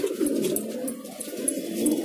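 Wild white pigeons coo in soft, throaty rolling calls close by, a low continuous murmur with faint higher chirps scattered above it.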